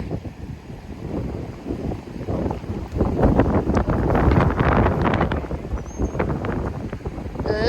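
Strong wind blows outdoors beside water, roaring and buffeting the microphone in loud uneven gusts that build toward the middle and stay steady to the end.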